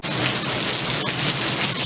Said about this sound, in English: we're starting to get a little bit of hail falling during this quick little thunderstorm burst